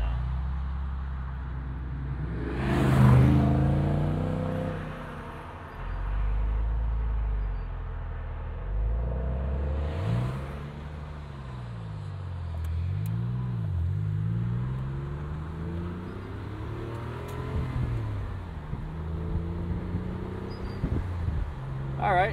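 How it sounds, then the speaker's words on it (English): A manual six-speed 2001 Porsche 996 Carrera 4 drives along, its engine droning from inside the cabin with rises and falls through gear changes and revs, under spoken commentary. "It's definitely something about a manual 6-speed 20-year-old 911 though."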